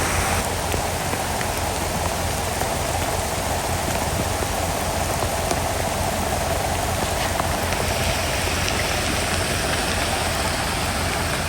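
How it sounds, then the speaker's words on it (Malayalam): Dense, constant heavy rain roars without pause near Urumbi Waterfalls, a loud even hiss filling the scene with a low rumble beneath. "അതുമല്ല നല്ല മഴയാണ്."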